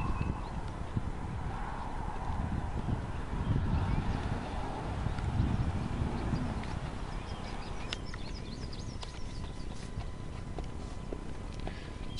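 A large gaited Missouri Fox Trotter horse walks along, its hooves producing a steady, soft clip-clop rhythm at moderate distance, with faint birdsong and ambient noise around it.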